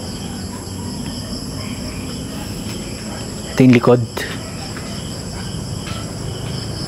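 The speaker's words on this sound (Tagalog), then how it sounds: "Kung mapapansin nyo, kuliglig lang yung maririnig nyo." Crickets chirp steadily at night in the background while a person briefly speaks nearby.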